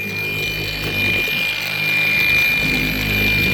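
A power tool runs steadily nearby, felt pad buffing a handmade piece, a short constant motor hum with no pauses.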